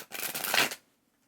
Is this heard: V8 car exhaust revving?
no